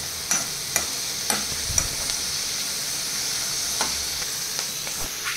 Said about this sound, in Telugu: సో మనకి ఆనియన్స్ వచ్చేసి గోల్డెన్ బ్రౌనిష్ కలర్లోకి వచ్చేంత వరకు మనము మంచి ఫ్రై చేసుకోవాలన్నమాట.